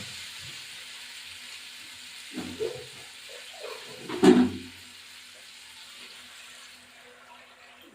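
Water is poured into a hot frying pan of fish curry, making a soft, steady hiss that swells into two short sizzling bursts before settling back to a quiet simmer.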